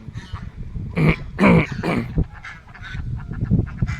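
Geese honk loudly on a duck farm in Palayan City, a few harsh calls in quick bursts standing out over a busy chorus of other waterfowl nearby.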